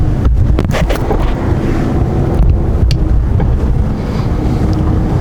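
Strong, continuous wind roars and buffets the microphone during an EF0 tornado in France, with gusty rumbling and occasional rattling bursts, loud and unbroken throughout.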